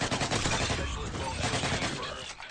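Dual Skorpion machine pistols fire in a first-person shooter, giving continuous rapid full-auto bursts that are loud and dense throughout the short stretch.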